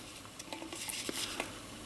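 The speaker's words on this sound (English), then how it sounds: "Hit your pipe here, you get a coin, and you just place the coin" Coins placed into a tobacco pipe bowl: faint, light metallic clicks and soft scraping, a few small taps close by over a quiet background.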